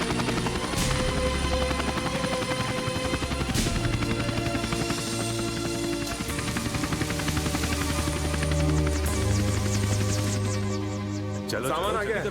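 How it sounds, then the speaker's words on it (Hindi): A helicopter lands in an action film scene, its rotor throbbing steadily and loudly throughout, mixed with music and voices talking over it. "हेलीकॉप्टर लैंड हो चुका होगा।"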